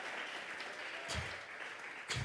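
Congregation in a church service breaking into applause, a steady dense patter of clapping that runs throughout and swells briefly twice.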